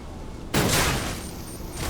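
A cannon fires in the action game Lies of P, a single loud, close boom bursting in after a quiet moment and decaying into a rumbling tail, with a faint second hit at the end.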